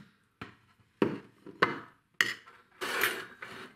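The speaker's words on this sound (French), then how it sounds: "Et on fait glisser la part de crumble hors du plan de travail dans l'assiette." Apple crumble slice eased from a tin onto a plate brings a few sharp knocks and scrapes of metal and utensil against dish, spaced apart, ending in a longer scraping slide, close and fairly quiet.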